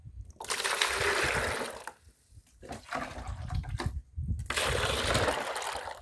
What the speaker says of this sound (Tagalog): sa atin pong pagbuhos ay tignan po natin kung nasasayang ba o hindi